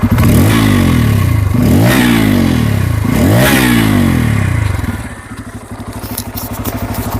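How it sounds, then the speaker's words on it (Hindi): A Bajaj Pulsar N250 single-cylinder motorcycle engine, in neutral on its side stand, revs loudly three times in rising and falling sweeps, then settles to a fast, throbbing idle nearby. "तीसरा चीज आपको इंजन का साउंड सुनाता हूं, तो वो भी गौर से सुनिएगा।"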